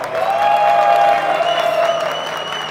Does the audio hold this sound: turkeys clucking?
no